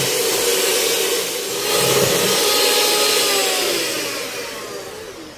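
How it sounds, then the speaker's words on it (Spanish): An electric mixer whips cream until foamy for a chocolate ice dessert, giving a loud, steady whirring drone that swells slightly midway and holds for several seconds with no talking. "Esta la vamos a estar batiendo hasta que quede completamente hecha una espuma."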